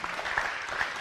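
Audience clapping on cue at a talk, a short burst of dense applause at a steady level.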